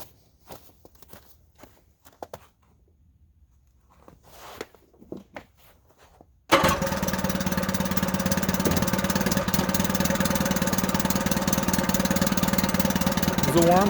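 A 1956 Evinrude Fastwin 15 hp electric-start outboard motor, warm, started on battery power in a test tank, roars to life abruptly partway through after quiet footsteps and handling, then runs loud and steady near at hand.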